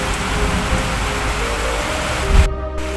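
Heavy rain pours within sight of the Atal Setu bridge, a dense, steady roar of drops that stays loud and even throughout, with a brief low thump near the end.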